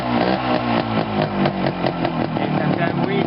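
A small engine running with a silencer packed tight with glass wool, a loud, steady buzzing drone that holds close and constant with slight pulsing throughout.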